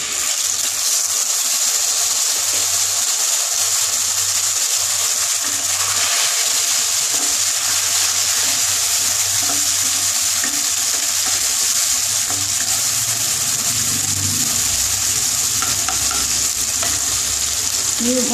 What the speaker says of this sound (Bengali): এবারে এই টমেটো পেস্টটা দিয়ে দিচ্ছি।